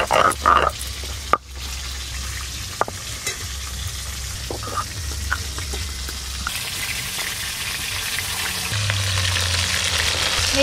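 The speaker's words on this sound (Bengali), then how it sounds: "এই মাছগুলো ভাজা হয়ে গেল" Fish of an unnamed kind fries in oil in a pan, a loud, continuous close-up sizzle with bubbling crackles that swells and steadies toward the end, with a sharp clatter near the start and no voices.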